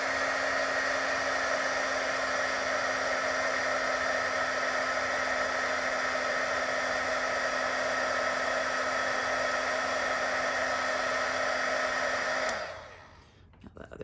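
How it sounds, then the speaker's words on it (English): Heat tool melting white embossing powder on a Valentine's Day card, a loud steady blowing whir with a constant hum, close and unbroken for about twelve seconds before it switches off and winds down. "so I'll use my heat tool to emboss it"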